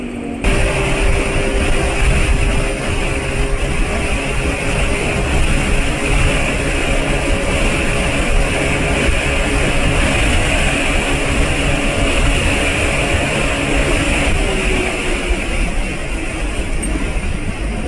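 Motorcycle engine running steadily while riding in cold weather, running on Ipone M4 oil mixed with Stelizinc additive, a continuous dense drone with wind-like roar, loud and close, unchanging for the whole stretch.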